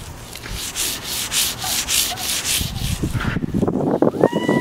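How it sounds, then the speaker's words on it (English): Clay mitt rubbed across the paint of a 2010 Ford Fusion during car sale prep, giving close rhythmic scrubbing strokes with a gritty, rough texture that shifts near the end to a smoother swipe. "just a quick example of what this clay is doing. Hear that?"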